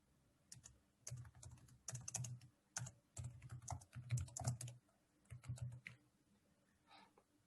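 Quiet typing on a computer keyboard comes in several rapid bursts of clicking keystrokes, separated by brief pauses.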